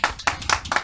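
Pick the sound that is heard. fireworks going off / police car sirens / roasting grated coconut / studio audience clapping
studio audience clapping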